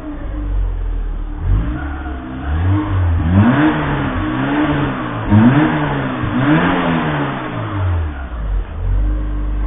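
A Citroën AX engine with a freshly rebuilt head gasket revs up and down repeatedly, rising and falling in pitch over a steady rumbling idle, loud and close.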